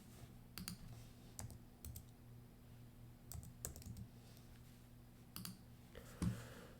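Fingers typing a stock ticker on a computer keyboard, several quick bursts of close key clicks separated by short pauses in a quiet room, no voices.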